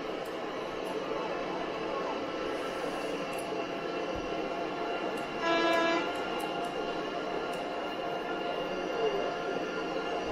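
A high-speed train near Frankfurt runs in Train Simulator with a steady rolling rumble, a brief horn-like tone midway, and someone talking over it.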